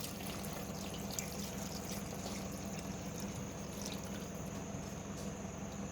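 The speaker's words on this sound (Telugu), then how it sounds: "ఇప్పుడు ముక్కలు మునిగేంత వరకు వాటర్ వేసుకుందాం మనం." Water is poured over country chicken pieces in a cooking pot, making a quiet, continuous trickling and splashing pour with faint drips. It sounds close and steady for the whole six seconds, with a low background hum underneath.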